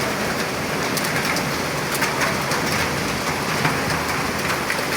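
Heavy rain mixed with hailstones pounds a tin roof at night in a dense, unbroken roar, with brief brighter bursts of hits scattered through it and no voices.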